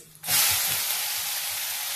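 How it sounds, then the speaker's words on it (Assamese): Finely chopped onion with turmeric frying in a pan, a loud steady sizzle that bursts in after a short quiet moment and hisses on without pause, no voices. "এইখিনি ৰঙচুৱাকৈ মই ভাজি লওঁ।"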